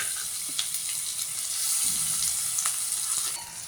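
Onion, garlic and coriander sizzle steadily in hot oil in a pan for an eggplant dish, a close, continuous crackling hiss with light stirring and no talk.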